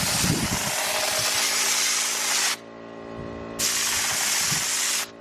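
Two long bursts of broad hissing spray as a second coat goes onto a ceramic piece, close by, separated by a short pause, with faint background hum between them.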